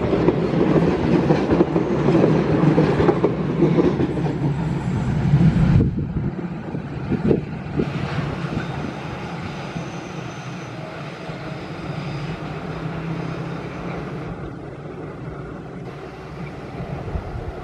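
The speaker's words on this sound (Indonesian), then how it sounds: "Ini KAIS 3 sudah diberangkatkan dari Stasiun Cibatu." The KAIS 3 special passenger train departs Cibatu station, a loud rumbling roar of engine and wheels close by that eases after a few seconds into a lower, steadier rolling sound as it moves away.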